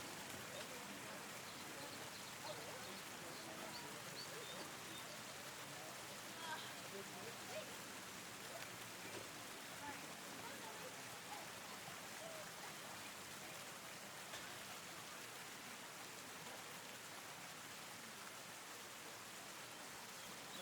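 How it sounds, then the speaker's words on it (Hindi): A river of cold snowmelt flowing through the Zermatt valley in Switzerland makes a steady, even rushing hiss. It stays continuous and unchanging throughout, with no clear voices. "तो ये दरिया है जी, ऊपर से सारी ये बर्फ़ जो पिघल रही है वहाँ से दरिया, ये नीचे पानी ठंडा यख पानी ला रहा है।"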